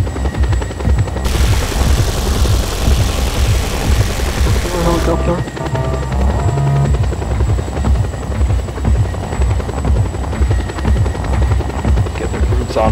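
A helicopter in Just Cause 2 multiplayer on PC drones loudly and continuously nearby, rotor chop and engine hum steady throughout, with a burst of hiss partway and people talking over it.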